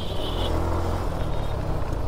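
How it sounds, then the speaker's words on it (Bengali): Motorbikes and Vespa scooters pass in dense city street traffic at Gulistan, giving a continuous close engine drone and rumble with no pauses. "ও মা, ফুল ভেসপা যাচ্ছে। কত বাইক যাচ্ছে"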